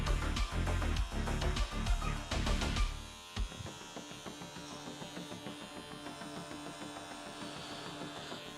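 A carpet shaver's loud electric motor buzzes close by for a few seconds while trimming a handmade rug, then cuts out, leaving a fainter steady mechanical hum and rattle.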